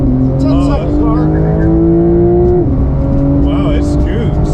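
Fast car launching at full throttle, a loud close engine roar climbing in pitch through the gears with a shift partway through, while people talk excitedly over it.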